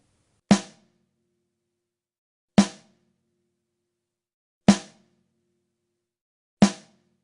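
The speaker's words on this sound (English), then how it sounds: "Now let's check out the snare drum here." Four sharp snare drum hits ring out alone through a single Shure SM57 microphone, evenly spaced about two seconds apart, each with a crisp crack and short rattling decay.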